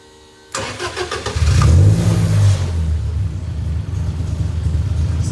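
A Toyota AE86 engine fitted to a go-kart cranks and catches, then revs up loudly before settling into a steady, close rumbling idle with no voices.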